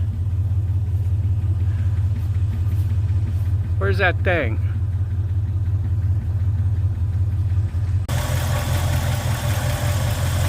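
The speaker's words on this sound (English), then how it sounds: "Engine runs pretty smooth, don't it?" A Ford Fairlane's original engine, about 129,000 miles on it, idles with a steady low hum, while someone speaks briefly over it.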